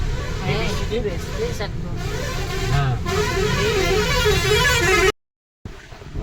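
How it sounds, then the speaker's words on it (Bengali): A bus leaving Digha near Mandarmoni sounds its loud horn in repeated blasts over rumbling road and engine noise, close by, before a brief cut to silence. "আর বাসের ওই যে একদম পেটেন্ট হর্ন এটা কেমন করে বাজায়"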